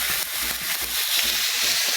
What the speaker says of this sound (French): le but, c'est de faire dorer gentiment la viande, mais très légèrement